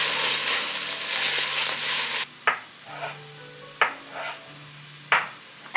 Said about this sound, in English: first I'm gonna just saute down the veggies to get them nice and soft